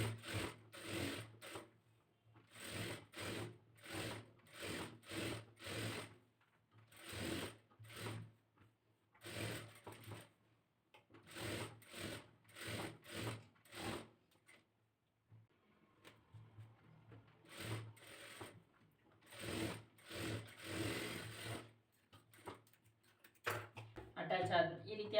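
A sewing machine stitches binding strips onto a blouse in quick repeated bursts of whirring, with short pauses between runs and a steady low hum underneath.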